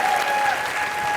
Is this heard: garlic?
no